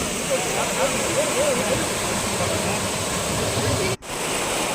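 Water rushing steadily into the PTR irrigation canal as its gates are opened for farmers, a loud, continuous broadband roar that holds throughout with one brief dip near the end.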